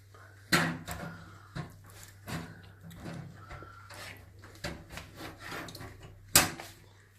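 A hard drive slides into homemade plastic clips inside a home-built computer case, giving several soft scraping rubs and light knocks, close and fairly quiet, with a sharper click near the end.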